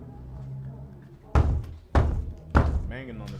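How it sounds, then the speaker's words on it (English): Three heavy bangs strike a door at roughly even intervals, loud and close, each a sharp thud that fades quickly, with faint background murmur before the first hit. "Banging on the door."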